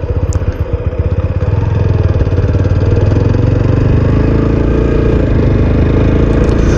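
A TVS Apache RTR 160 4V BS6 motorcycle being ridden, close and loud, its engine giving a steady rhythmic thrum that rises in pitch as it pulls away and holds a sustained drone. No one speaks.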